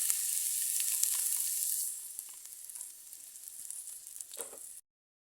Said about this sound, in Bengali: এই যে আম্মু এখন বাগার দিবে, পেঁয়াজ আর রসুন দিছে।